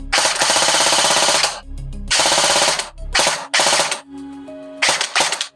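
A CYMA M16A4 metal gel blaster fires on full auto in three long rapid bursts and a final shorter one, each a loud close mechanical rattle, with brief pauses and a faint whirring motor between.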